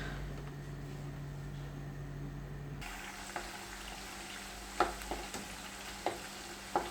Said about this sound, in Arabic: انا غادا نقص عليه العافيه ونخليه كيتقلى بشويه عليه باش يدخل باش يتقرمش من الداخل في الزيت